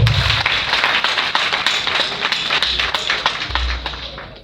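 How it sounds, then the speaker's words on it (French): A crowd claps loudly at an outdoor certificate ceremony for young trainees in Glazoué, with dense, sustained applause and scattered sharper claps running throughout. "Applaudissez très fort."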